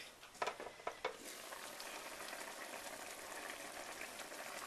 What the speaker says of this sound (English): As you can see, the meatballs are starting to cook down.